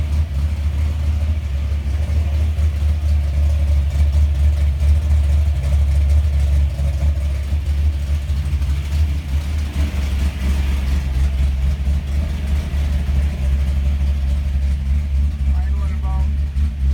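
A V8 with a Holley 850 Ultra XP carburetor idles steadily after a few degrees of timing were added, giving a continuous low rumble with a slightly crisp, even pulse. Someone talks over it throughout.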